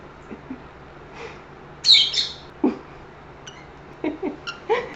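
Pet lovebirds, small parrots, give sharp chirps and squawks in short scattered bursts close by, with quiet pauses between calls.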